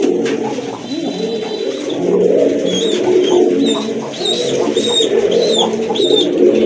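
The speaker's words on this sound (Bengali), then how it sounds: "জোড়া কবুতর মাশাআল্লাহ, এগুলো কিন্তু সম্পূর্ণ রানিং কবুতর মাশাআল্লাহ দেখার মতো।" Running pigeons kept for sale coo close by, a dense, continuous layer of low, rolling coos from several birds, with higher chirps and calls overlapping on top.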